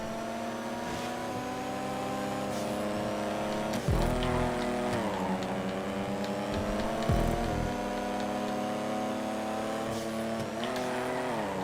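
A Casco car's engine drones loud and steady during a GTA 5 video game race, its pitch climbing and falling with gear changes, with two sharp surges of low rumble as the car powers through twisty sections.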